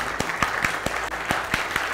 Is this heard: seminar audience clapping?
yes